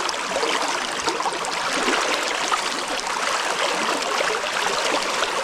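The River Whiteadder flows at good fishing height as a steady, close rush of water with a continuous broadband babble, no voices over it.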